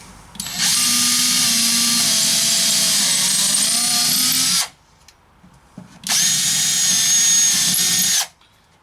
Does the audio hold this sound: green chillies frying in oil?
no